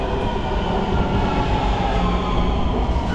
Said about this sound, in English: the best way to move around in Taipei is using the MRT, so basically the subway system